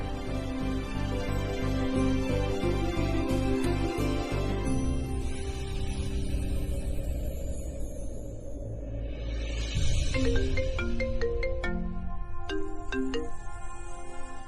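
A phone ringtone plays a looping electronic melody late at night, a steady, fairly loud tune that repeats with a shift in pattern partway through, with no talking over it.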